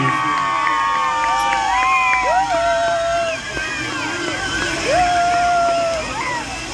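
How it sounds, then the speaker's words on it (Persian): At an Eid al-Ghadir celebration in Iran, a large crowd cheers and screams with several shrill whistles rising above the roar, which holds loud and continuous throughout. "دوباره یک کف سوت جیغ هورا"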